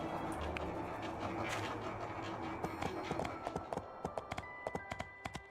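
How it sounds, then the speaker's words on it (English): Horse hooves walking on a beach in the video game My Time at Portia, a run of evenly spaced clip-clop steps growing clearer toward the end over soft ambient game music. "Let's have a little walk along the beach with the horsey here."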